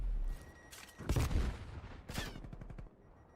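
Submachine gun fire sounds in a Call of Duty League esports match, with bursts of loud shots and impacts arriving in two clusters, layered game effects between them.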